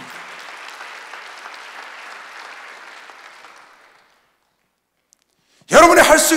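Church congregation at a Sunday worship service applauds, a steady crowd clapping that fades out after about four seconds, then a brief pause before a loud voice cuts in at the end.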